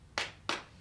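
A lone person clapping at a panel discussion, two sharp, close handclaps about a third of a second apart, with the start of a third cut off at the end.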